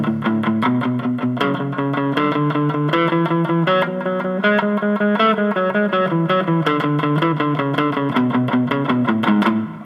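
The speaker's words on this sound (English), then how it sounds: "I've got a little bit of gain distortion on my channel right now" An electric guitar with a little gain distortion plays a jazzy swing-eighths run, picking quick notes up and down the scale in a steady, even stream.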